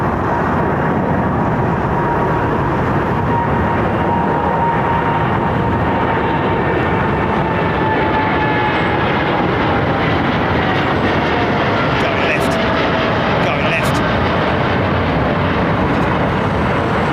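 A Boeing 777-236ER airliner with raked wingtips departs London Heathrow Airport for Baltimore, a loud, continuous jet-engine roar with a slowly shifting whine that holds steady throughout, heard alone without talk.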